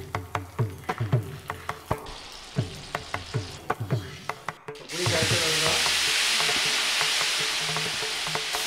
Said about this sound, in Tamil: சீரகம் நல்லா பொரிஞ்சு வந்தவுடனே இப்போ வெந்தயம் போடுறோம்.